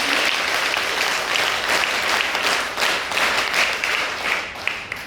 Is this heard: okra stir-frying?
no